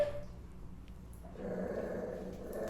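A pack of puppies gathered around a food bowl let out faint, low growls and grumbles that rise a little partway through. No one speaks.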